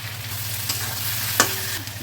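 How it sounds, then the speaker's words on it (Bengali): Fish curry masala with slit green chillies being fried and stirred in a pan for a rohu-style potato and pointed gourd curry, giving a steady close sizzle with a low hum and one sharp scrape of the spatula partway through. "এবার ভালো করে কষে নেব"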